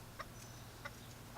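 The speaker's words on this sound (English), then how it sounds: "Is that a dirty chicken?" A chicken fresh from a dirt bath gives a few short, soft clucks, spaced out and fairly quiet, with no talking over them.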